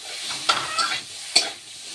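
A plantain and potato curry sizzles and fries in a pot, a steady hiss broken by a few sharp scraping stirs.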